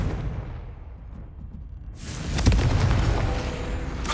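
The Confringo fire spell from Hogwarts Legacy goes off in one loud, full blast that hits at once and keeps up a crackling roar for a couple of seconds.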